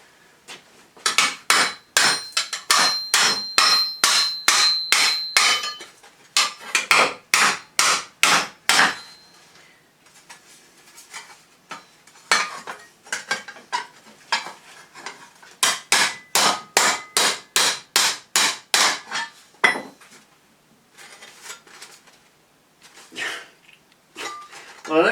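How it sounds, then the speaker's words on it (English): Sharp metallic hammer blows strike a steel weld on a small anvil in a garage, landing in fast repeated bursts of ringing clangs separated by short pauses, loud and close. "take it to the little anvil of doom and see if it works"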